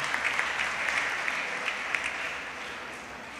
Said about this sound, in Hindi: सारयां ताली बजा के सारयां दा धन्नवाद करूँ।